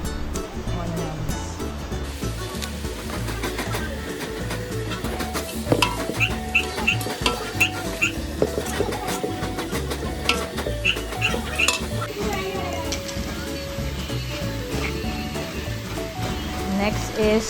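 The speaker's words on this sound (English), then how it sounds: "So she's now started stirring the onions." Onions being stirred in a pot while cooking down for a Kerala-style Malabar mutton dum biryani, a steady scraping and sizzling texture running throughout with light clinks and faint talk in the background.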